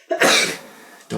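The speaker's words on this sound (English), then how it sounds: "Don't ever sneeze while I'm talking again." A single sharp sneeze bursts out close and loud, followed by a brief quieter exhale or sniff about a second later.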